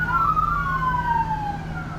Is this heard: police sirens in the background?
yes